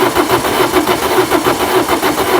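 A Peugeot Bipper engine cranks slowly on its starter, a loud, close, steady chugging turnover that never catches.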